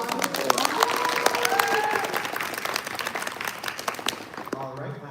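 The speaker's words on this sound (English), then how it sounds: "Round of applause." A panel audience at an anime convention drag cosplay session breaks into a round of applause, many hands clapping sharply and fading toward the end, with some crowd cheering mixed in.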